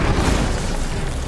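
A fiery Incendio spell bursts in the video game Hogwarts Legacy, a dense, roaring blast of fire and boom that fills the brief moment at full loudness.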